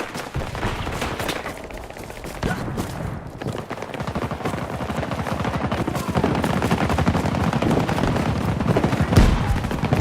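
Dense automatic gunfire in Battlefield 2042 rattles almost without pause, several weapons overlapping in loud rapid bursts with heavier booming shots mixed in, and the barrage grows even fuller toward the end.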